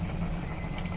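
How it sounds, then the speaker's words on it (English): A kitchen timer beeps during salsa canning in a Nesco canner, a thin steady high tone riding over a constant low hum of the canner and burner, moderately loud throughout. "You may have heard the timer go off."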